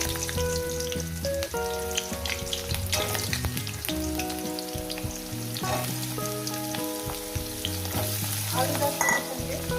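Potatoes dropped into hot oil already crackling with black cumin seeds, a loud, steady frying sizzle with stirring clatter throughout while a fish curry is cooked; background music plays over it.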